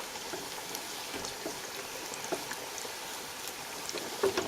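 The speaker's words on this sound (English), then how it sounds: "So I'm gonna fry my chicken for about 5 to 6 minutes" Chicken fries in hot oil for hot spicy crispy fried chicken, giving a steady, busy sizzle and crackle throughout with a few louder pops near the end, heard alone and close.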